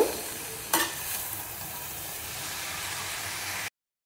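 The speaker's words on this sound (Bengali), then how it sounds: "এবারে শাকগুলো উল্টো পাল্টে নেব।" Red amaranth greens sizzle steadily in a hot frying pan, a continuous broadband hiss with one sharp clatter of the greens being tossed early on, then unbroken frying until it cuts off.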